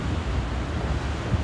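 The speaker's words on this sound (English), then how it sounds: "We got some angry swells out there." Stormy ocean swells and gusting wind on an empty, gray beach, a continuous low roar of surf with buffeting wind noise throughout.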